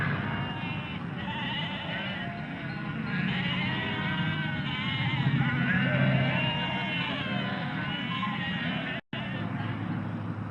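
A flock of sheep bleats continuously, many overlapping wavering calls at close range, on a road, with a low rumble of traffic beneath.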